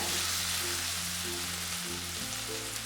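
Spices sauté in oil in a pan for a Kerala fish curry, making a continuous close sizzle with some low background hum.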